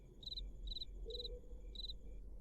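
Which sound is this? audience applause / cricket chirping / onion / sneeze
cricket chirping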